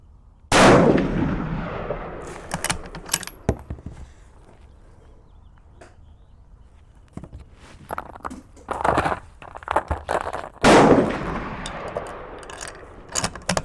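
A 6.5mm Creedmoor rifle fires during load testing at an outdoor range. Two loud, sharp shots ring out several seconds apart, each with a decaying echo, and quieter clicks and handling noises fill the gaps between them.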